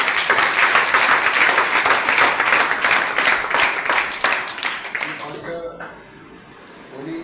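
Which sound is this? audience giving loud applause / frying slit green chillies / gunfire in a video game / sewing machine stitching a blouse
audience giving loud applause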